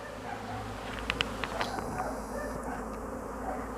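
Honey bee colonies buzzing at their hive entrances, a steady low hum with a few sharper passes of individual bees flying close by, no voices.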